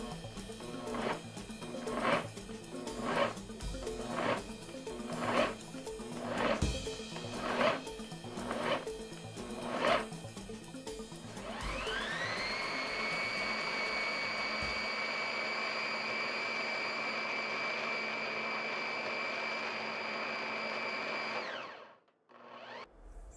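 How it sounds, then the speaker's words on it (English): A Vitamix mini chopper and immersion blender work partially thawed frozen mixed fruit, starting with a run of rhythmic pulsed bursts, then settling into a steady, high-pitched whir for several seconds before cutting off. "Here I am using the Vitamix Mini Chopper and Vitamix Immersion Blender."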